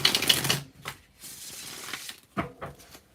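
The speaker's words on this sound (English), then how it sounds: "So we'll give a good shuffle for the Capricorns." Tarot cards shuffled in a burst of dense riffling for about half a second, then softer scattered card slaps and a couple of sharper flicks near the end, close and fairly quiet.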